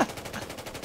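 Rapid automatic gunfire from a Battlefield 4 match, a dense run of shots close and fairly loud, with no voices over it.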